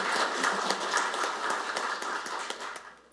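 Audience applause for a visiting company head at a Korean National Assembly forum on beekeeping and honey plant shortages, a steady wash of clapping from a seated crowd that tapers off near the end.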